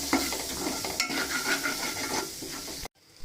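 A spoon scrapes and stirs a masala mixture in a frying pan for chilli parotta, close and continuous with faint sizzling, cutting to near silence just before the end.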